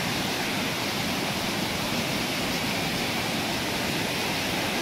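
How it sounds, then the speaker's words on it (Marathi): Nand waterfall near Akoli pours in a dense, unbroken roar of falling water, loud and close, with no other sounds over it. "आता नांद धबधबा दाखवतो तुम्हाला जवळ जाऊन"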